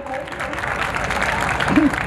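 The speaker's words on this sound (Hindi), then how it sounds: "ये मोहल्ला भी ताली बजा सकता" Audience applause at a Hindi kavi sammelan poetry event in Nathdwara: a continuous wash of clapping from a crowd, steady and fairly loud, with a voice briefly heard over it.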